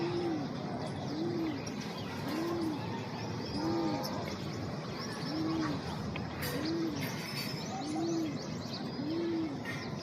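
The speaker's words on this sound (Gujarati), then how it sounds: "જો ચકલી બધી અત્યારે નાની નાની જો" A flock of small sparrows gathers to drink water in a courtyard, their busy high chirps continuous throughout, while a dove coos in a low, regular repeating pattern underneath.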